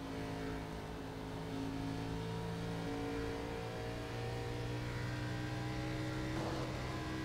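A race car in an Xfinity Series racing video game laps Rockingham, its engine droning steadily and shifting pitch as it accelerates and lifts through the turns, loud and continuous with no talk.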